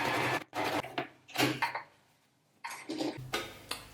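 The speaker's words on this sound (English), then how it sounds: "So I'm gonna actually go and do a top stitch." A sewing machine runs a top stitch about 3 mm from a French seam, in several short bursts of mechanical whirring separated by brief pauses, fairly close and without talk.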